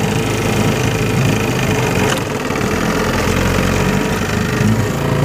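Boat motor idling in neutral, a steady loud close-up engine drone with an even rumbling throb throughout.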